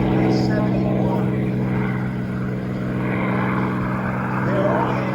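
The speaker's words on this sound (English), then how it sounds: "to be able to hear the sound of that Pratt & Whitney radio engine is just phenomenal" A Corsair fighter's Pratt & Whitney radial engine drones loud and steady in flight at an airshow at Willow Run Airport, a continuous throbbing propeller roar with a faint voice beneath it.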